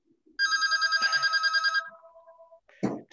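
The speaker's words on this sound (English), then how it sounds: "Sorry, the phone will stop ringing in a second." A telephone bell rings in a quick burst of trilling, metallic pulses lasting over a second, followed by a short fading tone and a brief clunk, clear and close in a quiet room.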